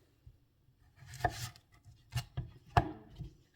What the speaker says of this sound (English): So I'm just going to cut this up and put it into